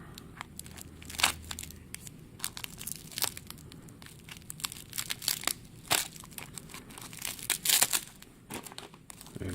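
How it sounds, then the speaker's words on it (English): Tape and bubble wrap crinkle and tear as they are pulled off a packed Morgan silver dollar coin, a close run of irregular crackling bursts with sharp snaps. "And more tape and bubble wrap."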